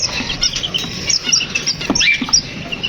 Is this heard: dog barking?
no